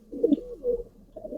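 Soft, close pigeon coos, a couple of low throaty warbling calls in quick succession in a quiet space.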